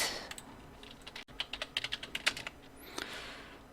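Quick, light clicks of a computer keyboard being typed on, a close burst of about a dozen keystrokes in the middle and faint room noise around them, with no speech.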